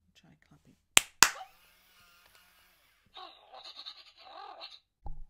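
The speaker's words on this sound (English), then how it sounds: "Try clapping." Two sharp hand claps close together, loud and near, aimed at a WowWee Mintid Dog-E robot dog toy, followed by a burst of electronic toy sounds and chirps from the robot dog.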